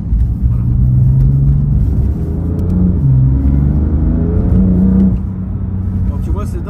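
A car's engine drones at a steady low rumble while the car is driven, its pitch rising and falling slightly, with voices murmuring inside the cabin over it.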